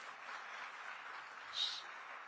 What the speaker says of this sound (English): I think we can have a bigger round of applause.